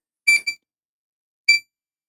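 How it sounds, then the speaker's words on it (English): A multimeter's sound (continuity) function emits two clear electronic beeps about a second apart, the first a quick double chirp, the second a single tone, with silence around them and no talk. "now you can hear the beep, hopefully"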